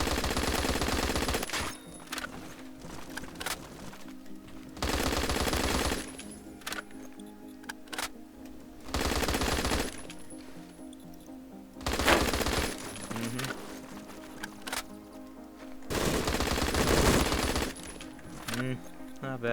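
AG3 rifle fire in Phantom Forces, heard as loud sustained automatic bursts alternating with quieter gaps. A voice talks between some of them, and sharp cracks and clinks run throughout.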